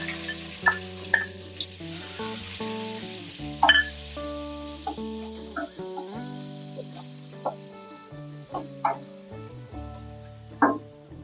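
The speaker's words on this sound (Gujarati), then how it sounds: "હવે આપણે જીરું નાખશું હિંગ નાખશું આપણે આ કાંદા લીધા હતા તે નાખશું" Cumin, asafoetida and onions sizzle and spit in hot oil for stuffed chilli curry, a steady frying hiss broken by occasional clinks and stirring scrapes, close and unbroken, no talking.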